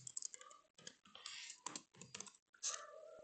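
Keys being typed on a computer keyboard to enter a vi editor line-numbering command, a quick irregular run of close clicks and taps in short bursts with brief pauses between them.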